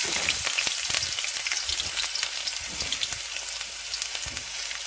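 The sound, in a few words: chopped onions sizzling in frying oil for veg chowmein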